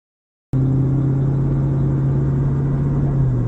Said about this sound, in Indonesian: sebuah mobil sedan yang melaju kencang di jalan yang sangat gelap